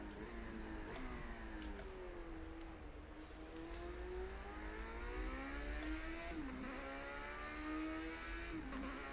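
An LMP 900 race car in Project Cars 2 drones steadily as its engine revs rise and fall through gear changes, sustained and fairly close, with no talk over it.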